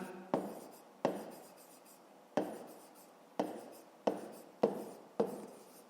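Numbers are written by hand with pen on paper during a fifth-grade math exercise, giving seven separate, close scratchy strokes, each a sharp tap that fades quickly, spaced irregularly with quiet between them.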